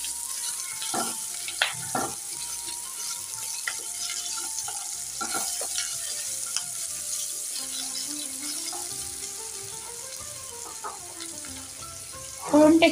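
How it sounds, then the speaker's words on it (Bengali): Chopped capsicum fries in oil with a cumin seed tempering, giving a continuous soft sizzle broken by occasional scraping stirs in the pan, growing louder at the very end. "কেটে রাখা ক্যাপসিকাম গুলো দিয়ে দেবো, দিয়ে ফোড়নের সাথে সব একসাথে ভেজে ভেজে নেব।"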